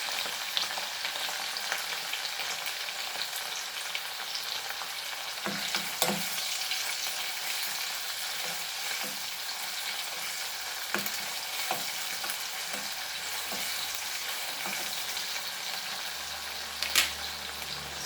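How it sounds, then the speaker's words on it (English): Steady sizzling from a hot pan while cooking Goan beef keema, a continuous close crackle with a few brief stirring clinks and no talking. "Fry this."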